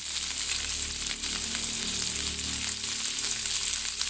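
Lechon paksiw sizzling and frying steadily in a pan as chayote goes in, a constant close hiss with faint stirring, no voices.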